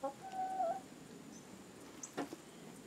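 A backyard chicken gives a few clucks and a drawn-out call, mid-distance against a quiet outdoor background, followed by brief scratchy clucking bursts.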